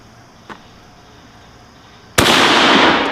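A single loud, sharp Mauser M1898 rifle shot fired at a long-range target outdoors, a sudden blast followed by a sustained rumbling echo, with a faint click beforehand.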